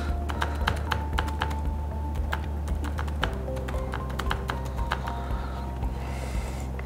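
Steady rapid typing on a computer keyboard while entering a first and last name into a registration form, crisp close key clicks in an irregular stream throughout with no talking.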